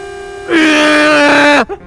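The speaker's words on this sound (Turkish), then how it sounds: "Bak arkadaşlar kornam çok güzel." A truck horn from Euro Truck Simulator 2 sounds in a single loud, sustained blast of about a second, its tone sagging in pitch as it cuts off, with no talking over it.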